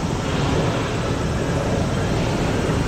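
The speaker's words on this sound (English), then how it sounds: "Another airplane." An airplane flies overhead in the busy Shinagawa area of Tokyo, a steady, loud broadband roar that holds evenly throughout with no clear voices.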